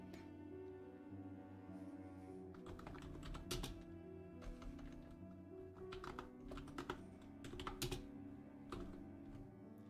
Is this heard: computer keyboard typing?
yes